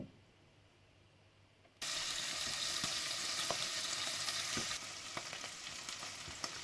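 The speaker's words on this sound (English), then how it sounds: "I've chopped up the onion and the peppers and I've split it between the 2 pans. So we're just going to let those fry up a bit first." Chopped onion and peppers frying in two pans, a quiet start, then a sudden loud, steady sizzle with scattered crackles and pops, easing slightly later, no talking.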